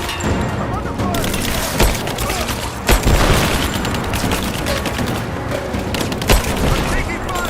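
Gunfire rattles through a firefight in Rise of the Tomb Raider, dense bursts and booming shots over several seconds, loud and continuous, with shouted combat voices mixed in.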